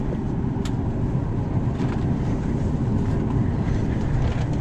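Steady low rumbling drone inside a passenger airplane cabin on a flight to Orlando, loud and continuous with a faint click or two on top and no talking.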